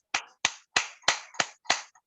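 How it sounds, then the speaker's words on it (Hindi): Meeting participants at a training programme clap: six separate, sharp hand claps come at an even, unhurried pace, crisp and close, with silence between each one. "सारे लोग एक बार इस जबरदस्त ट्रेनिंग के लिए, उस डायनेमिक लीडर के लिए एक बार बिंदास ताली बजा दें।"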